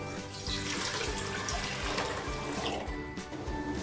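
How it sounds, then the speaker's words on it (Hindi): Water runs steadily into a large cooking pot for a Goan milk pudding, a continuous close gush and splash that lasts several seconds without talk. "बड़ा सा एक पतीला लेना है ऐसा। उसमें हमें पानी डालना है।"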